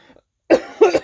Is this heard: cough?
yes